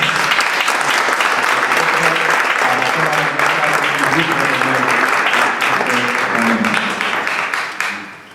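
An audience at a Spanish-language presentation of reflections and photographs breaks into sustained clapping, thick and close for most of its length, with some voices mixed in before the applause fades out at the end.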